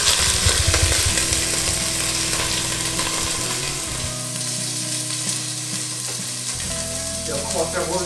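Meatballs for pasta bolognese fry in a pan with a steady, close sizzle and crackle that runs throughout, no voices.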